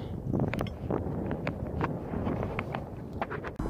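Wind buffets the microphone in an open field by an old German aviation beacon tower, a steady low rumble broken by scattered soft thumps, with no talk.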